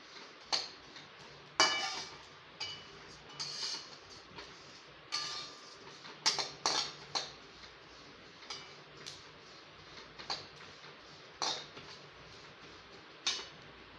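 Fennel seeds are dry-roasted in a pan while being stirred, with irregular light scraping ticks and clinks of a spoon against the metal, close and moderately quiet, with no voices.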